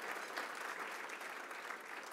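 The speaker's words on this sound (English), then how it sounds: "Let's give him another round of applause" An audience claps steadily in a dense, continuous round of applause at a Long Island Association annual event, with no voices over it.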